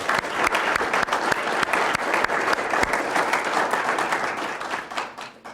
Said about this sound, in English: Please join me in another round of applause for that 2003 SVSU football team